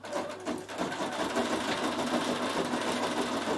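A Bernina 7 Series embroidery machine stitching out a design runs with a dense, steady mechanical whir at close range, holding an even level throughout.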